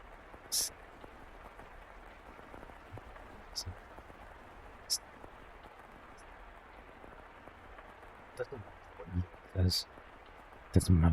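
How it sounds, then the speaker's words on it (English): Rain in the video game The House in Fata Morgana, a faint, even patter running throughout beneath a few louder clicks and bumps. "It sounds like rain again."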